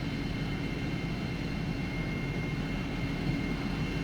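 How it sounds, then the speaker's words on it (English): A simulated TF-104 Starfighter jet engine holds a steady, dense roar as the throttle comes up during taxi, a loud, even whine and rumble with no pause. "just coming up on the throttle to keep the aircraft moving"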